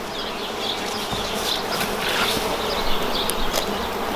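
Dense, continuous buzzing of many honey bees around an open hive being split into a new box, close and steady with no voices.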